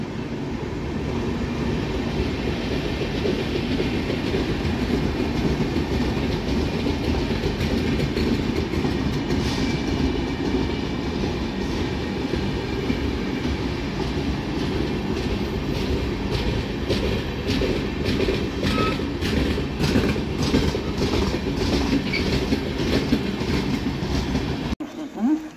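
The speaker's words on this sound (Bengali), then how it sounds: "ফিরোজপুর ক্যান্টনমেন্ট থেকে ধানবাদ অবধি ডাউন গঙ্গা সুতলেজ এক্সপ্রেস" The Ganga Sutlej Express, a down train from Firozpur Cantonment to Dhanbad, rolling into platform 4 at Laksar station: steady heavy rumble and rhythmic wheel clatter over rail joints throughout, close and loud, with a speaking voice faintly beneath.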